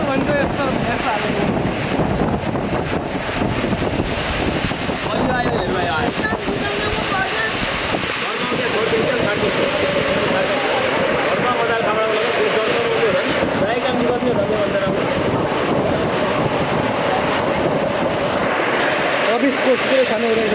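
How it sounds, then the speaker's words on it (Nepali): Strong gusting wind at a college campus in Tikapur, a loud, continuous roar buffeting the microphone and rising and falling in surges, with a person talking over it. "पुरै स्पिड हावा पुरै मान्छे उडाउने जस्तो हावा लागिरहेको छ"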